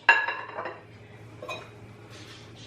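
Utensil clinking and scraping against a bowl while fried potato salad ingredients are stirred together, a cluster of bright clinks at the start, a lighter one mid-way and another at the end, close and clear.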